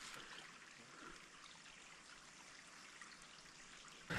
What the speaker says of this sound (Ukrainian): Там струмочок гірський